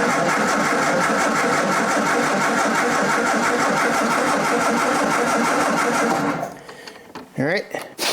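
A Triumph TR4 engine cranks and catches, a loud close mechanical churn with a rapid pulsing rhythm lasting several seconds before it cuts off, followed by a few clicks and short sounds.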